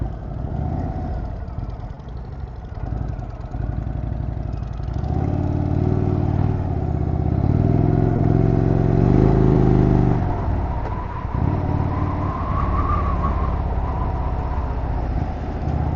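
An Indian Springfield Dark Horse motorcycle being ridden, its engine a steady low rumble that swells and eases with throttle changes, heard continuously and fairly close, with no talking.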